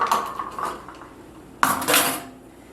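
Dry pancake ingredients being stirred in a bowl, probably with a whisk, giving a run of close, busy scraping and clinking against the bowl that briefly pauses before a sharper, louder burst of mixing.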